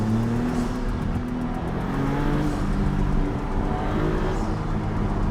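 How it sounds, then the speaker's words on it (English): A 2022 Maserati MC20 supercar is driven high in the revs with the window open, giving a steady, loud engine drone with rising and falling tones and a faint high whistle of turbo sounds. "keep it high in the revs and come off the throttle with the window open, and you get some very cool turbo sounds"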